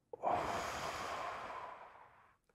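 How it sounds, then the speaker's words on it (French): One long, deep breath drawn and slowly released during a guided kundalini breathing exercise, close and soft, alone with no talking. "Une respiration."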